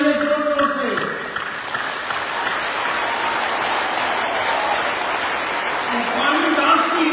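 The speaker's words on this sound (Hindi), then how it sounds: "तालियां मारिए जोर जोर से" A seminar audience claps loudly and steadily in a large hall, a dense sustained wash of applause that carries through the whole stretch, with a voice briefly audible at the start and again near the end.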